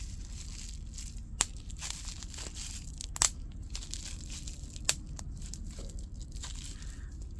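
Bubble wrap packaging is handled and squeezed in an attempt to pop it, giving a soft low crinkling bed broken by a few sharp isolated snaps and crackles, close and quiet.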